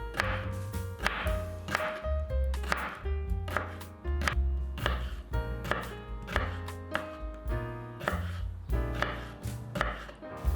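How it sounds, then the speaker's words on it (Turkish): A knife chops a cucumber into thin half-moons steadily on a cutting board, with repeated sharp thwacks in a quick even rhythm over background music. "Salatalığı boylamasına ikiye bölün ve ince yarım ay doğrayın."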